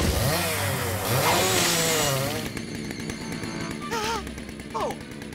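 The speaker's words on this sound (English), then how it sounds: "Where's my rusty chainsaw?" Rusty chainsaw running in a cartoon, a loud buzzing engine drone that roars at first then settles into a rattling idle, with cartoon voices over it.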